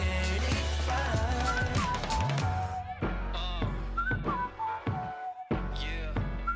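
A whistled melody rides over a full pop track with beats and synths in a break of a song, bright and clear in the mix.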